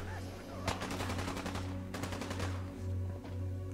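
Bursts of .45 SMG fire in Fallout 4, two rapid clusters of crackling automatic shots separated by a short pause, loud and close over a low steady game hum.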